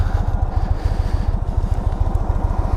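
A 2022 Indian Chief Bobber motorcycle engine rumbles in a steady, loping low pulse, close and fairly loud, with no voices over it.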